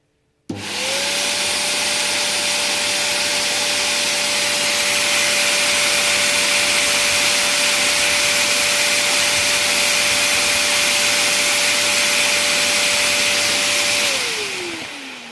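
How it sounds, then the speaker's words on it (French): A loud, steady whoosh of a blower spinning a rotor, with a sustained whining tone holding level for about thirteen seconds before winding down. "je vais mettre en route le souffleur"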